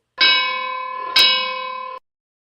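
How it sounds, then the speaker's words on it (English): Two loud, bright bell strikes used as a segment opener for a wrestling talk show, the first ringing out for nearly a second and the second landing right behind it and sustaining before cutting off cleanly, with no voices. "Opening bell. What is the opening bell?"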